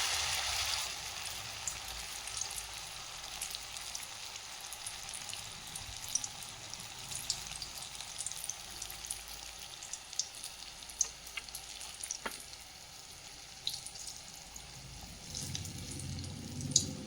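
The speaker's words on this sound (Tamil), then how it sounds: "இந்த மைதா மாவில் இப்படி முக்கி இதை முக்கிட்டு அப்படியே எண்ணெயில் போட வைப்போம்." Suiyam sweets coated in maida batter fry in oil with a soft, continuous bubbling sizzle and scattered small pops, fairly quiet and without voices.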